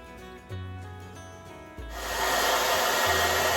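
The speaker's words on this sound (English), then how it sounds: "Once again, we're blow drying, but it's on a cool heat settings." A hair dryer on a cool setting starts with faint rubbing and brief motor bursts, then blows continuously in a loud steady whoosh close to the microphone.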